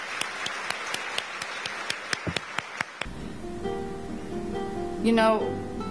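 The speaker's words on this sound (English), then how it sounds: "let's applaud Al Petrie, a 2010 exemplary nurse" Audience clapping rings out for a few seconds with sharp individual claps, then fades into quiet room tone and a brief voice.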